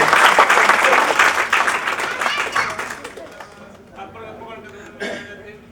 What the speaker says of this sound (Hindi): जोरदार तालियां चंदन राय जी